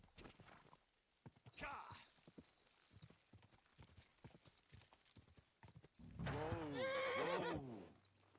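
Horse in the medieval open-world game Kingdom Come: Deliverance gives a loud, close, rising whinny near the end, after steady clip-clop hoofbeats heard under quieter character dialogue.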